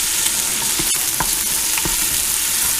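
Garlic and onions sizzle loudly in browning bacon fat, with a few sharp spoon scrapes and clicks against the pot as they are stirred, close and continuous with no talk.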